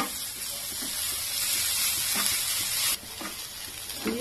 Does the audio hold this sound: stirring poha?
yes